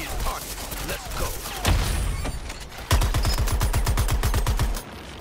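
Rapid bursts of automatic gunfire in the Suicide Squad video game, a short volley followed by a longer rattling stream of shots, loud and close, over faint background sound.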